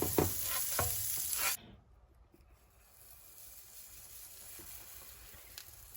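Hot greased pan hissing and sizzling loudly with a few stirring clicks, then the sizzle cuts out abruptly and a faint, quieter crackle and hiss carries on.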